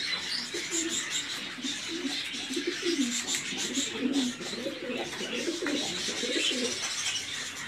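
Turkish pigeons cooing close by, repeated soft low coos overlapping in an irregular rhythm over faint background noise.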